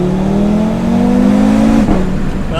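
An Audi RS3 five-cylinder engine revs hard and close, its pitch climbing steadily before a gearshift-like drop, loud and continuous with no talk over it.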